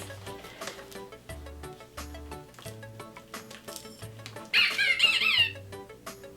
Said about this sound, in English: Squeak, says the little rubber duck.